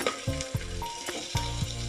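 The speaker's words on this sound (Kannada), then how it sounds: "ಈ ಒಂದು ಟೈಮಲ್ಲೇ ನಾವು ಈರುಳ್ಳಿಯನ್ನು ಈ ಒಗ್ಗರಣೆಗೆ ಸೇರಿಸ್ಕೊಳ್ಳೋಣ." Sliced onions frying in ghee as a tempering for ghee rice, a close, steady sizzle with a few short stirring knocks and scrapes, no voices.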